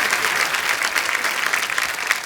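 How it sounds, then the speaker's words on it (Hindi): Studio audience on a Hindi TV comedy show breaks into loud, sustained applause, dense clapping filling the whole moment without a break. "जोरदार तालियां एक बार हो जाए"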